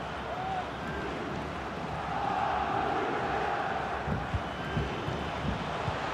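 A stadium crowd in a FIFA 23 Milan versus Vitesse match, a broad continuous roar that swells midway, with faint speech blended into the din.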